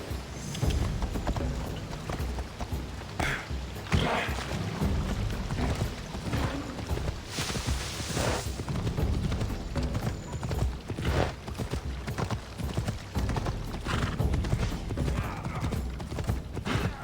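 Horse hooves in the video game Assassin's Creed Odyssey clip-clop in a steady trotting rhythm, accompanied by a faint mechanical rattle and a scattering of brief louder thumps.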